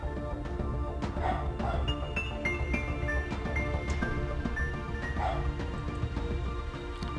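A dog barks in the video game Tokyo Afterschool Summoners, with a few short yips rising over steady background game music.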